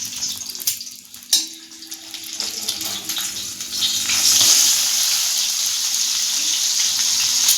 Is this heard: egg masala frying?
yes